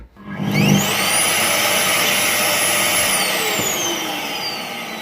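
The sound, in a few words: Philips PowerPro Active FC8632 vacuum cleaner motor running, disassembled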